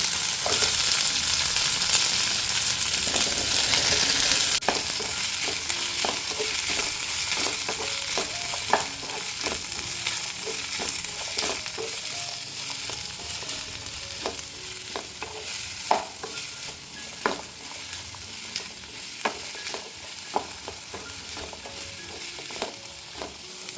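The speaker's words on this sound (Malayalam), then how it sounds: "ഇനി ഇതിലേക്ക് പാവയ്ക്ക് ഇട്ട് ഒന്ന് വഴറ്റിയെടുക്കാം" Bitter gourd sautéing in a hot pan: a constant sizzle with repeated scraping and clicking of a spatula stirring, close by and with no talking.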